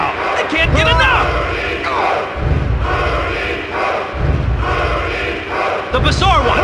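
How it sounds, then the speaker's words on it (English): A large video game wrestling arena crowd in WWF Attitude on PS1 roars and cheers in surging waves, with an announcer's voice talking over the din. "listen to this capacity crowd. They can't get enough."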